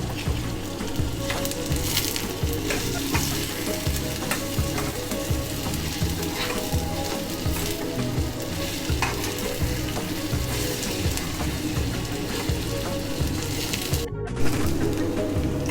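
Steady, dense sizzling of onions frying in a hot pan, continuous and close, with occasional stirring scrapes.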